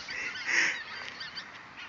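A wild flying chicken gives a loud, nasal, honking call, one strong squawk followed by fainter repeated calls, heard alone outdoors at moderate distance.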